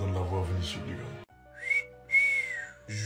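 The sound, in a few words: person whistling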